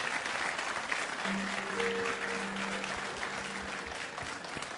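Faint, distant applause from an audience welcoming a guest onto the stage, a soft continuous patter with a low steady hum underneath.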